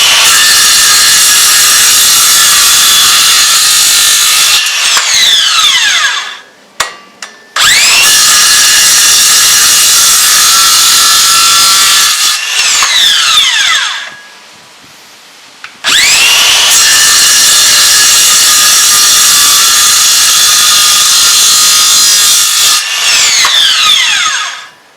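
Makita BSS611Z cordless 6 1/2 inch circular saw making three long cuts through wood, each a loud, close, high-pitched buzzing whine lasting several seconds, separated by brief pauses as the blade spins down.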